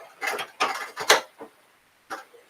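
A Singer sewing machine's presser foot is lowered, producing a close series of mechanical clicks, clunks and ratcheting knocks in short bursts, with a final separate click after a pause.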